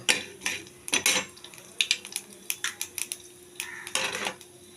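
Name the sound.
black cumin and dried chili sizzling in oil in a wok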